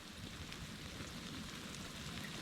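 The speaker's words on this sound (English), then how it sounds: "The rain's starting to come down." Rain starting to fall at a mountain campsite under trees during a storm, a dense, steady hiss of drops at moderate distance with no break.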